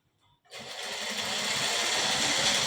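Sewing machine stitching a cross belt on a blouse, starting after a brief quiet moment and then running in a steady, fast, close whirring hum until the end.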